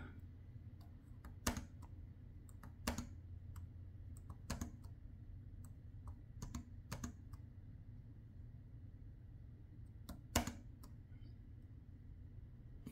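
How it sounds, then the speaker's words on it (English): Typing on a laptop keyboard with a customized tactile feel: quiet, close keystrokes clicking in uneven bursts over a low steady hum, with a few sharper, louder taps standing out. "typing on this thing is beautiful"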